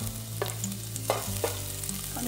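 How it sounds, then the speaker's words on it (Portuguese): Garlic fries in a spoonful of lard, with a soft, steady sizzle and a few small pops close by. "já coloquei o alho dourado aqui numa colherzinha de banha"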